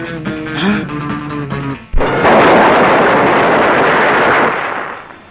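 A sudden loud bomb explosion in a 1982 Telugu film cuts through a musical passage, followed by a long roaring rumble that slowly fades.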